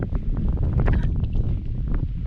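Strong, cool wind buffets the microphone on a farm in Lopburi, a continuous loud rumbling gust with rustling and no speech.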